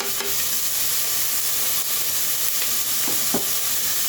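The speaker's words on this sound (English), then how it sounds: "Got some garlic on the pan, on the board too" Garlic sizzles and fries steadily in a pan for chicken tortilla soup, a close, continuous hiss with a few brief scraping stirs near the end.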